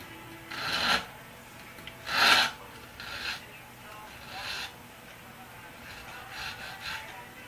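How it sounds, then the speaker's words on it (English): A guitar fret tang is filed with a few separate short rasping strokes, some louder and close, others fainter, spaced apart with quiet gaps between. "the tang is not perfectly gone, so I just take it to a little filing"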